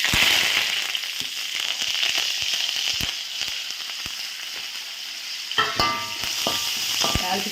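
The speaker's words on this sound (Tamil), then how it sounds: "இப்போ நம்ம இந்த எண்ணெயிலேயே நம்ம கடுகு உளுந்து கருவேப்பிலையை போட்டு தாளிச்சுக்கிடுவோம்" Mustard seeds, urad dal and curry leaves hit hot oil for a tempering and give a loud, continuous sizzle with sharp crackles and pops, then a fresh burst of spitting partway through.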